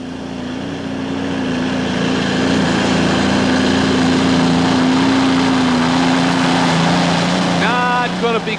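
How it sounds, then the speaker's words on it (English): Allison aircraft-engine modified pulling tractor Rambunctious making a loud, steady droning roar through a pull at Anaheim Stadium, engine running rough and not crisp, sustained for the whole stretch with a crowd murmur and a voice briefly underneath near the end. "As you can hear, the engine does not sound real crisp at all."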